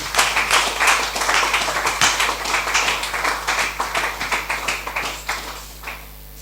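A church congregation claps in steady rhythmic unison, loud and close, the beat continuing throughout and tapering off at the end.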